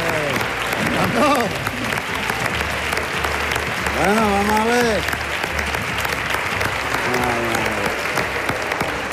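Audience applause at a Tierra de Talento talent show performance, a steady broad wash of clapping throughout, with a voice speaking over it.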